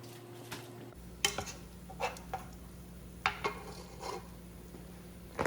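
A herb-crusted rack of lamb coming out of a hot Dutch oven, with light metallic clinks and taps of utensils against the pot over a steady low hum, close and quiet, with no talking.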